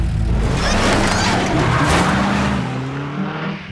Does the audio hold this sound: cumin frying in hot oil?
no